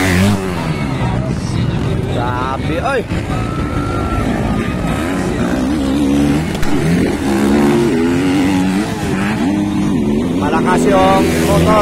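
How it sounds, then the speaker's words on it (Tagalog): Underbone motorcycle engines rev loudly during a novice open final race heat, a continuous high whine rising and falling beneath a race commentator's excited, nonstop talk. "yung motor ni Klang Klang"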